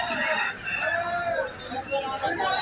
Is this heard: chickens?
yes